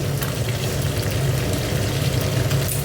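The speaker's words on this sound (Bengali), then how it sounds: "এখানে একটু জিরে ফোড়ন দিয়ে দিলাম" Cumin seeds tempering in hot oil give a loud, steady, close-up sizzle and crackle that holds without a break, with no talking over it.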